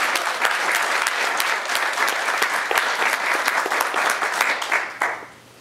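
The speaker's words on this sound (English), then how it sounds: "Could we have a nice round of applause for all those folks?" A campaign announcement audience claps steadily, dense applause holding at an even level for several seconds before dying away near the end.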